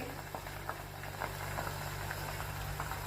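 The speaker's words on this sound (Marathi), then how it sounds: "आधीचं लोणी होतं ते आता तूप करणं चालू आहे" Butter simmering into ghee in a pot, giving a steady low bubbling and sizzling with scattered soft pops, close and continuous with a faint hum underneath.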